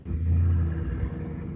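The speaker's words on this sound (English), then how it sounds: "now I hear the traffic" Road traffic rumbles low and steady close by, a deep continuous engine drone that swells briefly then settles, with no talk over it.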